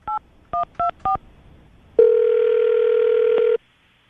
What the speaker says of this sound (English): I'll dial the phone number right now, see if we can get him on the phone